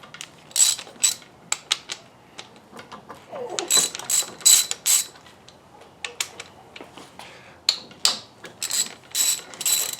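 A hand ratchet clicks in repeated close bursts with brief pauses while the connecting rod cap bolts of a 1970 Mustang Fastback engine are broken loose, crisp metallic pawl ticking with no speech.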